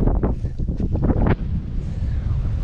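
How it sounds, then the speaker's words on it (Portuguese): Strong gusting wind buffets the microphone outdoors at a fish-farming site, a loud rumbling roar that surges for over a second, then drops to a steadier, softer rush. "Que vento, gente, olha, tá horrível os últimos dias."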